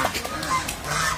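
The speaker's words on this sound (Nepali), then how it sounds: "यहाँ चाहिँ धेरै संख्यामा हाँसहरू छन्" A flock of large ducks at a pond honks and quacks in brief overlapping calls, fairly close, over outdoor background noise.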